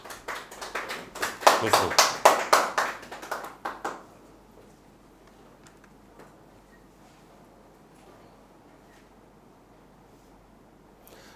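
Audience applause welcoming a student at a Maharishi Parashar astrology school ceremony, a burst of loud, rapid clapping from a modest crowd lasting about four seconds before dropping to quiet room tone, with a brief spoken phrase.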